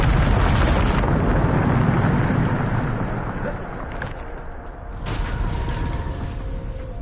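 A loud, sustained explosive rumble from a Bombarda spell in a video game, roaring for several seconds with a brief dip before surging again, with no talk over it.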